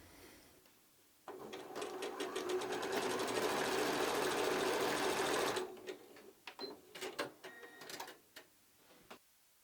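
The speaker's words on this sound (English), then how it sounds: "This time it's the front two pieces that I'm sewing together." A sewing machine stitches two patchwork front pieces of a quilted notebook cover together in a steady, fast whirring run of about four seconds. Quieter fabric handling and light clicks follow, all close and with no talking.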